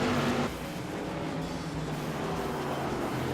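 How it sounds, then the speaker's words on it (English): An SK Modified race car engine in iRacing at Concord sputters low and rough at idle, sounding strained and uneven as if close to stalling. "Car is basically just trying not to stall out."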